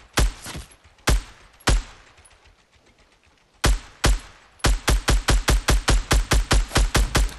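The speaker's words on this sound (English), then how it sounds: "someone shooting at me" Fortnite gunfire: a few spaced single shots, a pause, then a fast, steady burst of sharp, loud cracks fired in quick succession, with no talking.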